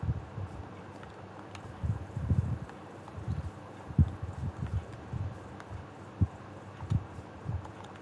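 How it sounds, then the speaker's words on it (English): Muffled donkey hoof steps clop irregularly in the Minecraft video game, soft, low thuds arriving in short bursts against quiet background ambience. "Oh, that's a donkey!"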